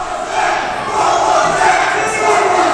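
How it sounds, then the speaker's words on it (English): A loud, vocal crowd at a Mountain Wrestling Association pro wrestling event roars and cheers continuously, a dense wash of shouting voices that swells slightly partway through and stays sustained throughout. "Crowd very vocal again."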